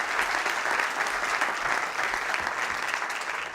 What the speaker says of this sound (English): Can we all give them another round of applause